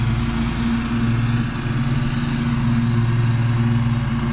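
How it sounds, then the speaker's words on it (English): Nearby lawn mowers cut grass by a houseboat harbor, a steady, loud small-engine drone with a rhythmic low chug that holds throughout without any talking. "We've got guys cutting grass here."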